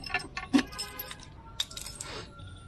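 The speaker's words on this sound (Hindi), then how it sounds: "आप देख रहे हैं इसमें मैंने चाबी निकाली।" Keys jangle and clink close by as the key is pulled from an old Royal Enfield Bullet motorcycle, a few bright metallic rattles with soft handling noises in between.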